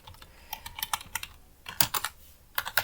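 Someone types on a computer keyboard close by, writing a C programming question. The keys come in quick irregular bursts with short pauses between them, and nobody speaks.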